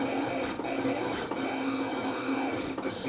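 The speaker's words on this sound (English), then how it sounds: "It's making cutting noises." A vinyl cutting machine cuts out a logo, giving a steady, close mechanical whir and buzz with slight fluctuations, a continuous moderate-level hum with no talking.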